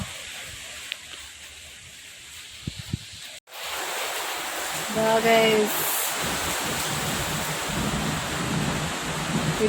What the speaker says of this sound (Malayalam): ഇടിയും ഉണ്ട് കേട്ടോ അതിൻ്റെ ഇടയിൽ കൂടെ ഇടിയും പൊട്ടുന്നുണ്ട്